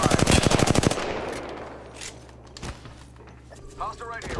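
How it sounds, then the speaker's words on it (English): Close, loud automatic gunfire in Apex Legends, a rapid burst of shots in the first second, then the tail fading into a low game hum with scattered clicks. "Taking fire."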